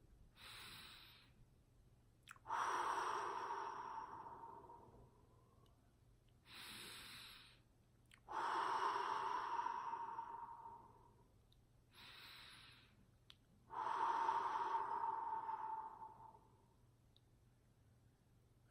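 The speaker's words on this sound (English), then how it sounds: "So we're going to start with 3 big deep breaths again." Three slow, deep breaths during a guided relaxation for a race mindset session, each a long airy inhale and exhale lasting several seconds, close and clear with quiet pauses between.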